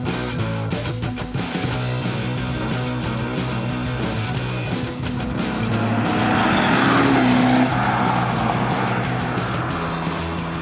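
A boosted seven-liter Corvette C6 Z06 engine revs hard and climbs through the gears, pitch rising with each pull, loud and close with a brief tire squeal.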